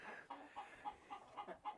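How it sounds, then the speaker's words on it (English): Roosters in a winter chicken coop cluck in a quick, even series of soft clucks, faint and somewhat distant, with no voices over them. "We keep the roosters under here, separate from the hens."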